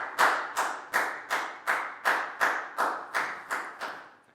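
Classroom round of applause during a Year 4 maths lesson, heard as about eleven evenly spaced, sharp claps at a steady brisk rhythm, fairly close and clear with no talking over them.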